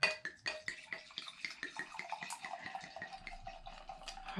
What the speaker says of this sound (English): So I'm going to pour a glass.